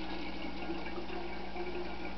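Steady stream of water pouring into an enema mixture, a continuous even trickling and splashing at close range with no pauses.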